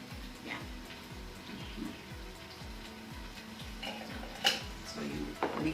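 Spiced fish gets mixed by hand in a bowl for Njama Njama, giving soft, rhythmic wet squishing and light clinks. Repeated strokes sit at low volume with a few sharper taps near the end.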